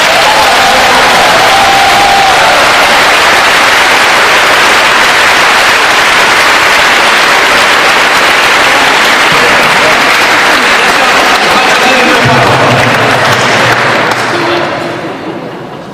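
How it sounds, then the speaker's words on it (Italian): Loud, sustained applause from a festival audience at the Feste del Crocifisso in San Zenone, a dense wash of clapping lasting nearly sixteen seconds with some voices mixed in, tapering off slightly at the very end. "Fatemi una bella applauso"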